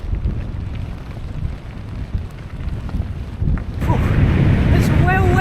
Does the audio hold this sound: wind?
yes